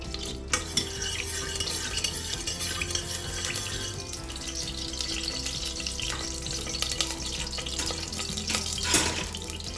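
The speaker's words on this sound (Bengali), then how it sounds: "যতক্ষণ না ঘিটা নরম হবে ততক্ষণ আমরা একটু নাড়তে থাকবো, যাতে ঘিটা তাড়াতাড়ি গলে যায়" Ghee melting in a pan while being stirred, a steady close scraping and sizzling hiss that runs throughout, fairly loud and continuous with no talk.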